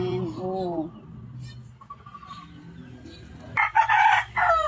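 Chickens in a Filipino backyard, a white Kelso and Gilmore game fowl hen among them, cluck in short bursts close by, then a rooster crows loudly near the end, with people talking faintly in the background.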